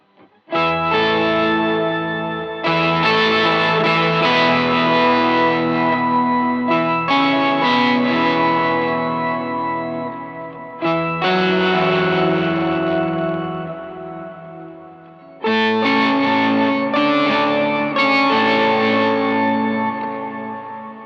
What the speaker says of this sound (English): Kind of sounds organ-like.